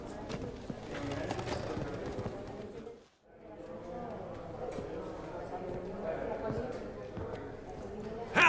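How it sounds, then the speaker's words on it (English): Horse hooves clip-clop in The Witcher 3: Wild Hunt – Hearts of Stone, a steady trotting rhythm running under game music and ambience, with a brief drop to near silence midway before the hoofbeats resume. "Horses."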